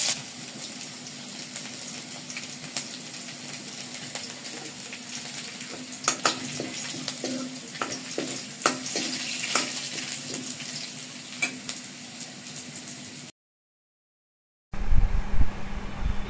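Garlic, onion and chillies fry in hot oil as a tempering for khichuri. A steady close sizzle runs throughout with scattered utensil taps and stirs, a short dropout near the end, then a louder burst of sizzling.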